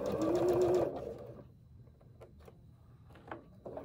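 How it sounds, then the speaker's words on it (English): A sewing machine runs in a short, loud burst of steady whirring stitching, then stops and leaves quiet room sound with a few faint knocks. "How often should you get your sewing machine serviced, Cappy?"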